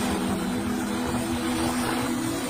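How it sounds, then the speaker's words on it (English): A helicopter flies overhead with a steady, loud droning rotor hum that holds constant throughout, with no other sounds standing out. "See helicopter."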